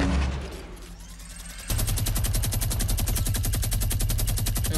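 Fortnite gunshots: after a quieter stretch, a loud, rapid, steady stream of automatic fire that runs on without a break.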